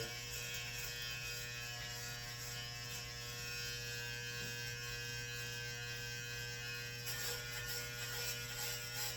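Wahl electric hair clippers give a continuous, close buzzing hum that stays even throughout, with no voices.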